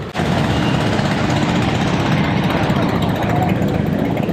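Motorcycles stream past without pause on a street in San Andrés, making a loud, unbroken wash of buzzing engine noise and broadband roar close by.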